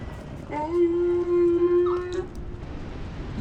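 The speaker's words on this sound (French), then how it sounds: "Il rugit comme un loup" A wolf-like howling roar from a creature in the Hello Neighbor 3 pre-alpha game rises and holds one long, loud tone for over a second before fading, with a soft background bed behind it.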